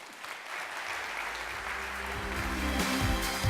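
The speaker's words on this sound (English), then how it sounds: "please give me a round of applause and welcome the founder and CEO of Glassdoor, Robert Homan" An audience at a corporate event breaks into applause as the company's founder and CEO is welcomed, a dense clapping that swells slightly and holds steady.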